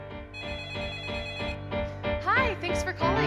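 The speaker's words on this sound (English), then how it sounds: "Phone never stops ringing." An office telephone ringing in repeated electronic bursts, loud and close, with a voice talking over the last part.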